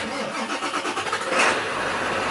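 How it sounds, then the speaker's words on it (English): A diesel commercial work truck engine cranks and catches, settling into a steady, loud mid-pitched clatter at close range with no talk. "Oh, that diesel sound."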